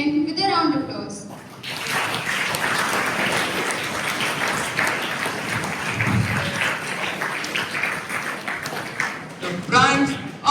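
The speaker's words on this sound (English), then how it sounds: "We congratulate them once again with a round of applause." An audience at a school investiture ceremony for student leaders gives sustained applause for about eight seconds. Brief voices are heard at the start and end.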